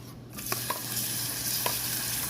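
Onion and garlic sauté in hot cooking oil, a steady close sizzle with a few light knocks of a utensil stirring the pan, and no talking.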